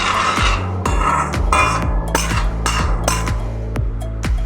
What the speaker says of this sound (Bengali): দিয়ে আবার কিছুটা দিয়ে আমি নাড়িয়ে দেব ডালটাকে